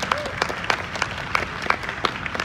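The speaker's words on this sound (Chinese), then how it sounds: "再一次热烈掌声" An audience at an open-air jazz concert in a park applauds, a scattered patter of claps that stays fairly even over the short stretch, with a voice briefly heard in the background.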